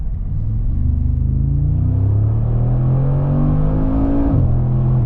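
A 600 HP Mercedes G-Wagon accelerating at full throttle, heard from inside the cabin: a loud, deep engine roar climbing steadily in pitch, with a brief drop near the end as it shifts gear.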